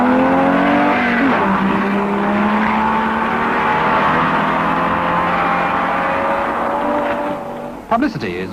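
A rally car driven by footballer Jimmy Greaves slides sideways in a broadside, engine roaring loud and steady with rising and falling revs and tyre scrub, cutting off near the end before a brief clatter.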